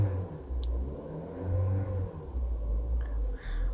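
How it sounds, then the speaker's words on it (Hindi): Inside the cabin of a Toyota Hyryder, the petrol engine revs up in a few swells, a muffled low hum rising and falling at moderate loudness without any voice. "मैं थोड़ा सा रेस देता हूँ।"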